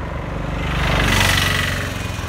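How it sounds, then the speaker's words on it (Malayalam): A tractor engine chugs steadily near a hill-country road in Idukki, a continuous low rumble with a pulsing beat that swells slightly in the middle as it draws closer, with no talk over it. "അവിടുത്തെ ഒരു ട്രാക്ടർ വരുന്ന കാണാവോ"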